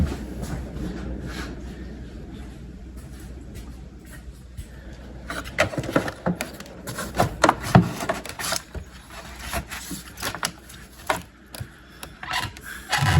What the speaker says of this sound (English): Set the intake back in.